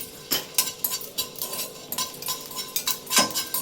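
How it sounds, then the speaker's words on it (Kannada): Stirring in a pan on a low flame with a faint sizzle underneath, a utensil clinking and scraping against the metal at an irregular rhythm, close and fairly soft, with no voices. "ಲೋ ಫ್ಲೇಮಲ್ಲಿ ಫ್ರೈ ಮಾಡ್ಕೋಬೇಕು"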